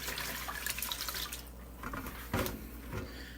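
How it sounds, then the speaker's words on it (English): Rice being rinsed in water for arroz con gandules, with steady watery swishing and dripping throughout and a brief louder splash in the middle, close and with no talking. "I'm going to drain this out and then just do it a couple more times until the water is clear."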